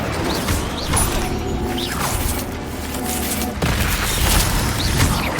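The Incendio fire spell is cast in the Hogwarts Legacy video game during a fight with spiders, giving repeated booming bursts and whooshes over a constant rumble of in-game combat noise, loud and close.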